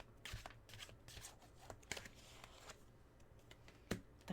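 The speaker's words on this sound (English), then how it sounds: "You see me shuffling the cards" Tarot cards are shuffled by hand in a quiet room, giving faint, irregular riffles and soft slaps that come in uneven bursts.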